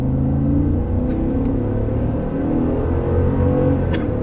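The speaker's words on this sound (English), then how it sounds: "It never gets old accelerating in the Escalade, that is for sure." A 2022 Cadillac Escalade with a 10-speed automatic accelerating, a steady deep engine rumble heard from inside the cabin with a strong low drone and no talk.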